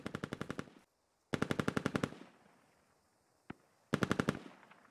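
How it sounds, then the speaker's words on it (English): Automatic rifle fire in the military shooter Squad, three loud rapid bursts of about eight to ten rounds each with echoing tails, plus one distant single shot between them. "More shots going out north."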